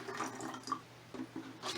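Water drains quickly through the pot of a freshly repotted terrestrial orchid, making close, soft trickling and gurgling splashes in a few uneven bursts, with no talk.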